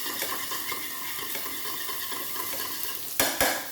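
A spoon stirs egg yolks with a pinch of salt, a steady soft scraping heard close over a faint background sizzle of bacon grilling, ending in two sharper clinks against the bowl.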